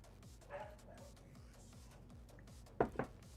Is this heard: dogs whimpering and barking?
yes